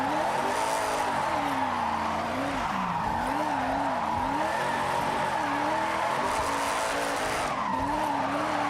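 A car sliding sideways in Forza Horizon, with a continuous wavering tire squeal over a droning engine that rises and falls as the drift is held.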